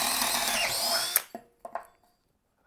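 Hercules cordless drill with a ratcheting chuck, running on speed 2 with a 1/2 inch twist bit, whirs loudly and steadily for about a second, then cuts off abruptly, leaving a few faint clicks and knocks.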